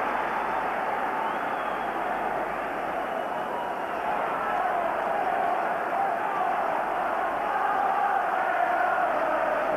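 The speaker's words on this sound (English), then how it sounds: "the crowd are enjoying this now" Stadium crowd at a 1995 Rangers versus Borussia Dortmund football match, a steady broad roar of many voices filling the whole stretch, swelling slightly toward the end with no break.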